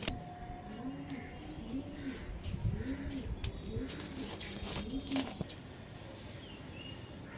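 Pigeons coo in repeated soft, rolling calls, with a few higher chirps mixed in and faint background noise around them.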